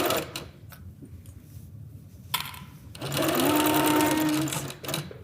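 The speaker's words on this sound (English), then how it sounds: "We're gonna back stitch just a little bit to secure" Close sewing machine stitching a quilt seam with a brief backstitch, starting in short bursts and then running in a steady whirring stretch before stopping, with a voice talking between and over the stitching.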